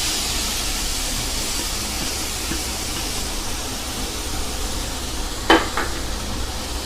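Grated carrot sautéing in ghee over a medium flame for carrot halwa, giving a steady, even sizzle throughout, with a brief sharper scrape of stirring near the end.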